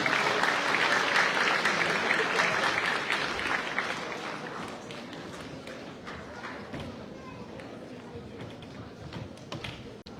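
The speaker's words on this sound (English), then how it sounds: "Give him a big round of applause" A conference audience in Calgary applauds a guest speaker, the dense clapping starting strong and slowly tapering off over ten seconds.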